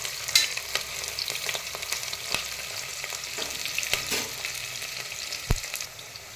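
Onions frying in a pan until lightly browned, a steady soft sizzle with occasional sharp pops and crackles, fairly quiet and continuous with no voices.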